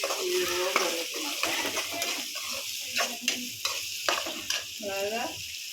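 Spices fry in hot oil in a pan while being stirred, a steady close sizzle broken by repeated scraping strokes, with faint background voices now and then.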